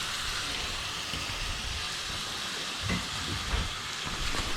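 Bacon fries in its own rendered fat in a pan, a steady dense sizzle and crackle that hisses continuously at moderate volume, close up with no talk.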